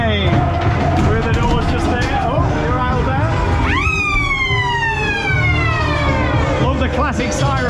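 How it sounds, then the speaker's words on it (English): A loud wailing siren rises and falls on a fairground ghost train ride amid a rumbling ride mechanism and crowd babble, with one long sweeping whoop in the middle. "Classic siren."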